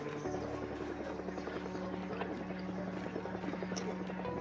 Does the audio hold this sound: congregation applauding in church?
no